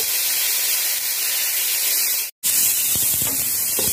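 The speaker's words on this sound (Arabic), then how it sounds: "هنزل بقى على طول كده بالبصلايه والجزر" Onion and carrots go into a hot pot with meat to start a soup, setting off a loud, steady sizzling hiss up close. The hiss cuts out for a moment, then returns with a few faint clinks.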